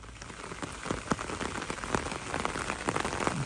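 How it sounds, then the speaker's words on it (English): Steady rain falls on a wet day, a close, even patter of drops striking a surface, with sharper individual drips scattered through the constant hiss. "I've woken up to yet more rain"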